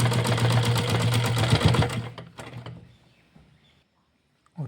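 A sewing machine stitches cloth for a wrestling langot, running in a loud steady whir for about two seconds, then stopping and leaving faint handling noises and a brief knock at the end.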